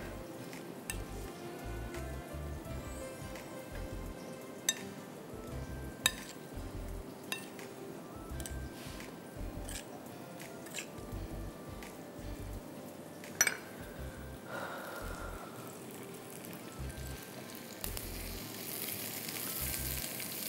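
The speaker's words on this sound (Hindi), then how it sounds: "प्याज सुनहरा हो जाएगा. फिर इसमें हम चिकन डालेंगे जिसको मसाला लगा के रखा हुआ है." Marinated chicken pieces and golden fried onions sizzle steadily in a pot for chicken pulao, with occasional spoon stirs and clinks against the metal, close and continuous with no talking.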